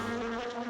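A cartoon robot bee gives off a short, steady, high-pitched electronic buzz, close and continuous, without any voices.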